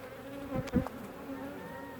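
Killer bees buzz in a top bar hive, a close, steady hum with a couple of louder passes as individual bees fly near.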